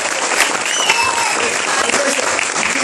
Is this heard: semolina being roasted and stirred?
no